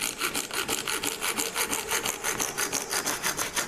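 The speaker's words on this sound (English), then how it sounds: "cut away the waste" A coping saw cutting through a piece of acrylic sheet held in a vise, with quick, even back-and-forth strokes rasping rhythmically at close range and no talking.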